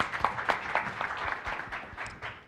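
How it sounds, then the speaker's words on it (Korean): A modest audience at an ICT startup IR pitching festival applauds the presenting teams, giving scattered, fairly faint claps that thin out toward the end. "고생했다고 여러분 박수 한번 보내주시면 감사하겠습니다"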